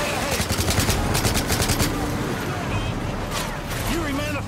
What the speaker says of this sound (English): man the 50 cannon, lay down cover fire!